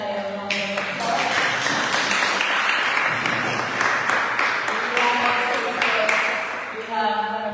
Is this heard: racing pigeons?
no